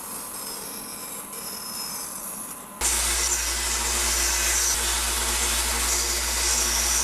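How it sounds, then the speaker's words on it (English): A bandsaw starts up partway through and runs steadily while cutting a plywood gauge, with a loud continuous hum and whine after a quieter stretch of workshop noise. "We'll go ahead and take this over to the bandsaw."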